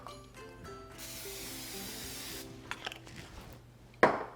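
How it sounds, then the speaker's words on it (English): A steady hiss of cooking spray onto a cookie sheet lasting about a second and a half, followed by faint clinks and a sharp knock near the end. "So I'm gonna spray our cookie sheet."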